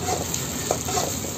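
Onions frying and being stirred in a pan for prawn thokku, a dense steady sizzle with a few soft scraping stirs, close and fairly loud.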